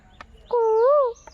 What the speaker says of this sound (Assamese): এই কুলি চৰাই